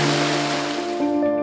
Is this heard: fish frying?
no